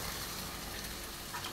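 Curry masala frying in oil makes a steady, soft sizzle with a faint crackle. The sound is quiet and continuous, with no voices over it.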